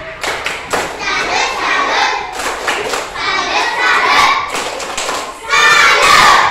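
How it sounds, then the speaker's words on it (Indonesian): A primary school class of children claps together in a rhythmic salute clap, loud and close, with children's voices and chatter mixed in throughout and a burst of louder clapping near the end. "Diberikan tepuk salut."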